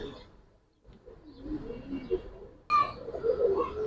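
Soft Giribaz pigeon coos rise and fall in the background, with a louder burst of cooing near the end and some indistinct voices around them.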